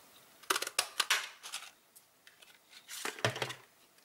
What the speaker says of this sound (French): je vais le découper avec la perforatrice étiquette du quotidien